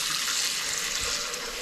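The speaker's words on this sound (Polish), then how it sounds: "Nalewamy wody." Water poured steadily into an appliance's wash chamber before a cleaning cycle, a close, continuous hissing splash with no talk.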